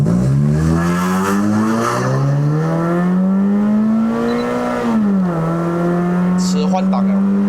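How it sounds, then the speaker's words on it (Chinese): A remapped 2009 Honda City GM2 1.5E with a K-series engine revs hard through a 0–100 acceleration run in S mode, its engine note climbing steadily and dipping at a gear change, loud and close from inside the cabin. "那我们进入 S 档，做一个0到100的测试。"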